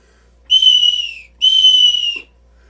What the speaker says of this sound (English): And what's really cool is if you stack them, they sound even better.